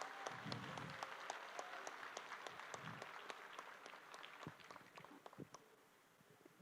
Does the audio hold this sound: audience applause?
yes